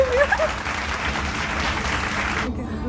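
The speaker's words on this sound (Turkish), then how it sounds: "Alkış efekti koyabiliyor musun?" A short burst of dense, steady applause plays as an added effect, then cuts off abruptly near the end, while a voice talks over the start.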